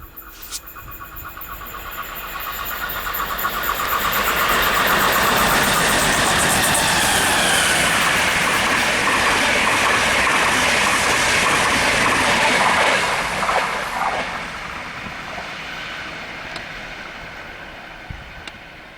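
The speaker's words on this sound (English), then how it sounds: "Train is now approaching." An Irish Rail train with Mark IV carriages pulls into a station, its loud rumble and rail noise swelling over several seconds, holding steady, then easing off as it slows.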